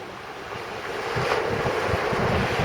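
Wind and surf roll in steadily on Gorleston beach, a continuous loud wash of breaking waves with gusting wind buffeting the microphone throughout.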